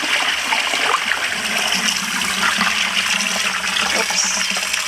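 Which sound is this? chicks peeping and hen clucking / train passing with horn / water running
water running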